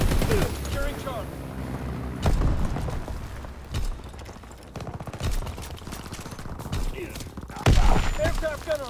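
Anti-aircraft guns in a war video game fire repeated heavy thumping salvos and bursts amid battle noise, while a voice speaks over the action.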